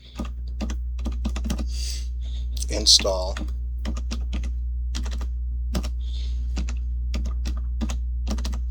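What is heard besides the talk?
typing on a computer keyboard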